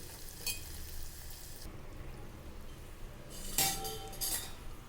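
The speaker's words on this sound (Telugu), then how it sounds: "ఇలా గోల్డెన్ బ్రౌన్ కలర్ వచ్చేటట్టు వేయించుకున్న తర్వాత ఆపేసుకోవడం" Faint, steady sizzling of ginger pieces frying golden brown in a pan, with a few sharp metallic clinks of a utensil against the pan.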